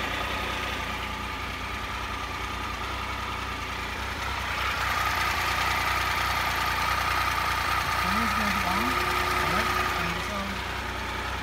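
A 2001 Triumph Sprint RS 955i motorcycle engine idles during a coolant flush, a steady, moderately loud rumbling drone that holds even throughout, with a slight rise in intensity midway.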